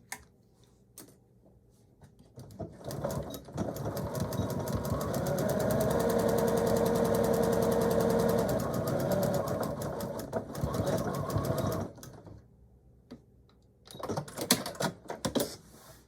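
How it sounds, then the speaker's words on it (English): A sewing machine stitches a DIY handbag seam in a long, continuous run of rapid, close needle clatter lasting about ten seconds, with quieter handling sounds before and after. "I'm going to just pull this out and sew it right where it is."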